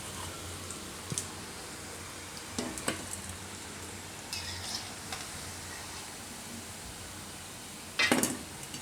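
Raw banana koftas frying in a kadai of hot oil, a soft continuous sizzle with occasional sharp clicks and scraping stirs from a utensil, one louder clatter near the end.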